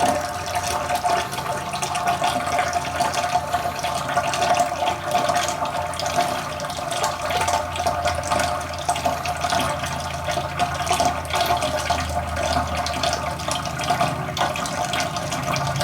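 Bourbon mash draining steadily during a homebrew sparge, a continuous close trickle and rush of liquid with a faint bubbling hiss, unbroken and even throughout with no talk.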